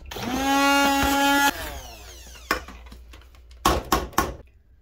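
Broccoli saag is ground in a blender: a whining motor runs for just over a second and winds down, followed by several sharp clunks and knocks from the jar.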